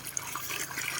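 Water gushes steadily from a hose watering a watermelon field, a continuous hissing, splashing rush with no pause.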